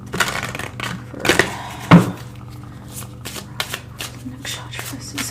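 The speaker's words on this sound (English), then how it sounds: "I'm going to pull 2 more oracle cards." Oracle cards being shuffled by hand: a series of brisk, close papery riffles and slaps in short bursts, with quieter card handling in between.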